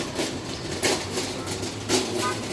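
A Bronx subway train rumbles by with a steady low roar, broken by rhythmic wheel clacks at regular intervals. A bird calls faintly in the background.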